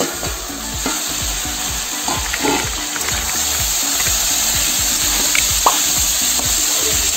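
A vegetarian curry of ridge gourd, flat beans and potato sizzles and bubbles steadily in a pan, with a continuous soft frying hiss and occasional stirring scrapes, close and alone.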